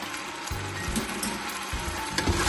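Food frying in oil with salt and ground black pepper gives a continuous bright sizzle, with a few low thumps and scrapes of stirring in the pan close by.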